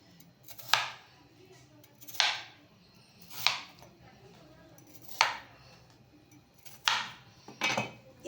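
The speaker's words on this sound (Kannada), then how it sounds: "ಇದು ಆಲೂಗಡ್ಡೆನ ದಪ್ಪಕ್ಕೆ ನಾವು ಕಟ್ ಮಾಡ್ಕೋಬೇಕು" A kitchen knife chopping potatoes into thick pieces on a board, six separate crisp cuts spaced about a second or more apart, close and clear over a quiet room.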